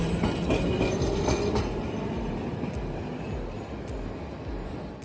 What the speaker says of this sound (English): The transport tram on the streets were quite authentic with the look and minimal with the size that fits well on the busy streets.